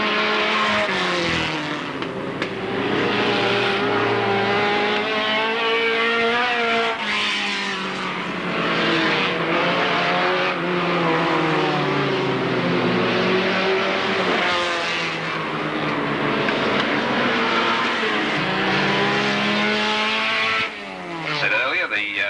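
Race cars at Alwalton Raceway in 1983 roar around the track continuously, engines droning and rising and falling as they pass, loud and steady throughout with a commentator talking over the noise.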